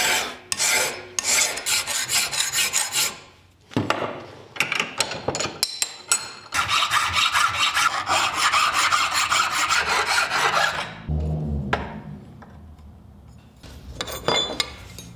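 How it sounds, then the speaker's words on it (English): A metal file rasps over a hand-forged spoon in a blacksmith's shop, sounding as bursts of bright, gritty back-and-forth strokes. Brief pauses separate the bursts, and a dull knock comes near the end. The filing is close and loud, with no voices. "So you can see I filed in all of the necessary transitions, front and back."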